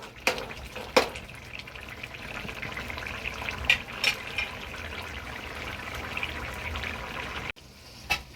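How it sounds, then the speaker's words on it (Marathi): Chicken masala sizzles steadily in a pan while being stirred, with a few sharp scraping clinks of a spoon early on and a brief drop near the end; no voices. "आपला आता मसाला तयार होत आहे. आणि मध्ये मध्ये ढवळत राहायचं"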